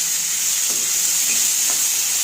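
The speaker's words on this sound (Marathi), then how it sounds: "भेंडी टाकून झाल्यानंतर व्यवस्थित त्याला हलवून घ्यायचं. सर्व बाजूला व्यवस्थित मिक्स करून घ्यायचं." Okra being stirred and tossed in a hot pan, a steady hiss of frying with a couple of soft scraping strokes, close and continuous with no talk.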